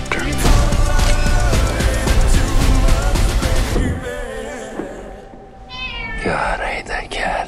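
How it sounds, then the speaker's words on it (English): A cat meows clearly and loudly near the end, after a stretch of loud trailer music, with some faint whispering around it. "God, I hate that cat."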